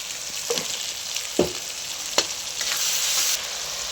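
Spiced fish curry base with tomato frying in oil, a steady bright sizzle with a few sharp scrapes as a spatula stirs the pan, close and without speech.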